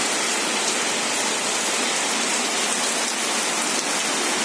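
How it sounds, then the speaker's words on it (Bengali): Heavy torrential rain pours in a dense, loud, unbroken roar of hissing water that stays close and constant throughout, with no voices. "মুসল ধারায় বৃষ্টি হচ্ছে প্রচণ্ড বৃষ্টি"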